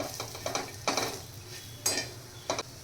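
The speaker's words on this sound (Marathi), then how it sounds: "आता हा पुलाव मसाला पण आपण ह्याच्यामध्ये छान मिक्स करून घेऊया" A spoon stirs pulav masala into fried capsicum in a cooking pan, making a few close scrapes and metallic clinks in an irregular rhythm over a faint sizzle.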